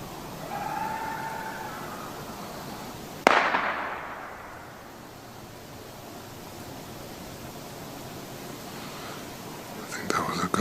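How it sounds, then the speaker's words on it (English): A single sharp gunshot fired into woods rings out loud and near outdoors, with a quick echoing decay over steady background hiss; faint voices murmur before it. "I think that was a gunshot."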